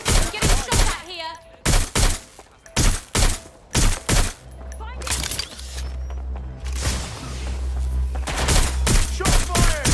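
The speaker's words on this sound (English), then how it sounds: "I'm getting shot at here." Gunfire during a shootout in the video game Watch Dogs: Legion, with loud, sharp shots in a rapid irregular series, then a pause before a denser burst over a low rumble.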